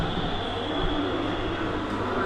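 Riding inside a moving metro train, with a steady, moderate rumble and hum of the carriage in motion, no voices over it.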